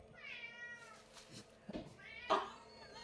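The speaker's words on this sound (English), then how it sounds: "Where is the cat? It's outside the door." A cat meows repeatedly from just outside a closed door, a few drawn-out, fairly quiet cries heard against a still indoor background.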